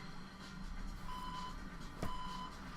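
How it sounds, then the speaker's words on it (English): Two short electronic beeps from a tracker signal in the video game No More Heroes, sounding about a second apart over a constant background hum of game ambience. "Does the beeping mean you're close"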